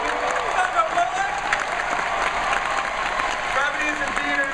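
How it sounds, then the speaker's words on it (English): Sustained audience applause at a Comic-Con panel, steady and fairly loud throughout, with voices speaking over the clapping. "Please keep your applause going."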